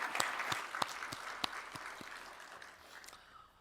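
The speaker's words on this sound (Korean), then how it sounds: "우리 찬양 받으신 주님께 감사의 박수." Congregation clapping in a church during a Sunday worship service, a moderate wash of applause with a few sharper claps, gradually fading toward the end.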